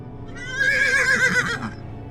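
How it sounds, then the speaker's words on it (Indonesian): A horse neighs once in a loud, drawn-out whinny that rises and falls for about a second, heard alone over a low background hum. "Kuda."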